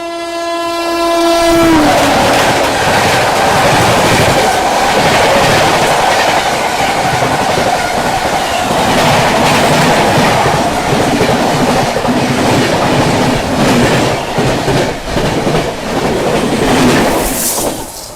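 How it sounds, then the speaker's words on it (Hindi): A passenger train roars past at high speed on the adjacent track, opening with a brief horn blast before a loud, steady rush of wheels and rattling coaches that continues throughout. "उस ओर से ट्रेन क्रॉस हो रही है वो दिखाते हैं। बहुत तेज़ आ रही है भाई।"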